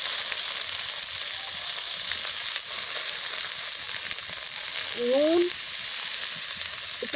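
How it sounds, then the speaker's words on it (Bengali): Fish with onion, green chili and garlic frying in a wok over a village kitchen fire, a steady soft sizzle and hiss throughout, with a brief clink of utensils near the end. "ষাটি মাছটা কড়ার মধ্যে দিয়ে দিলাম তারপর পেঁয়াজ পেঁয়াজ কাঁচা লঙ্কা রসুন দিয়ে দিলাম"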